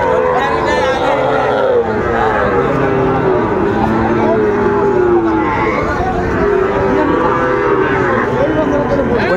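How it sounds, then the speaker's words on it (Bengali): Cattle, including young bulls, moo repeatedly and loudly at a crowded rural livestock market (haat) in Dinajpur, several overlapping calls near and far over a steady hubbub of people talking. "যেদিকে তাকা সেদিকে গরু আর গরু আমরা দেখছিলাম।"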